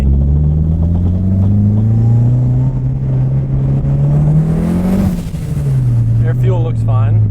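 A Nissan S14 engine rumbles loudly at idle after being fired up, with a smooth drone that swells in a short rev and settles back, a faint whine appearing toward the end.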